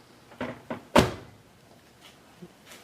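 A KitchenAid KMHC319ESS over-the-range convection microwave oven's full-width door closes: two light taps are followed by one solid thunk, then a few faint knocks in a quiet kitchen.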